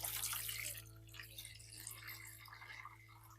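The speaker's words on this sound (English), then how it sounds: "So now we're just going to mix in the lukewarm water" Lukewarm water pours faintly into a container for soaking garlic cloves, a soft continuous trickle over a low background hum.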